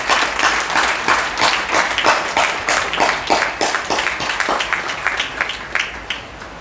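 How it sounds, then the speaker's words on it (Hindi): Audience at a community foundation-day gathering in Garhwal Bhawan claps to welcome one another, lively applause with pulsing bursts and individual claps standing out, sustained and fairly close. "एक बार तालियों से हम सभी आपस में एक दूसरे का स्वागत करें।"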